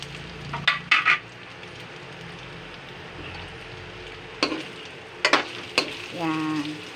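Meatloaf for sopas dropped into a hot pan, a soft steady sizzle broken by a few clattering stirs and scrapes of a utensil, ending in a brief louder fry.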